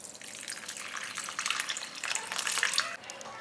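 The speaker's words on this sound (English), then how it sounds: "We wash the black bean." Water splashes and runs as black beans are washed, a soft continuous rinsing swish with small bursts of churning, fairly quiet and close, no talking.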